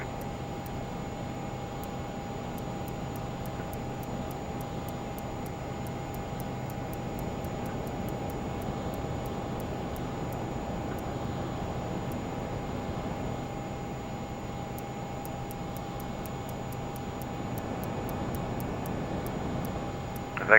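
Steady engine drone from an airliner in Microsoft Flight Simulator during a private night flight from Rotterdam to London City, a constant even hum with faint ticking clicks, running alone with no talk.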